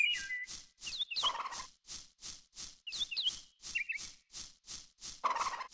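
Bird calls from the video game moon: Remix RPG: a steady, rhythmic series of gobbling pulses repeats about twice a second, with bright chirps over some of them, close and alone.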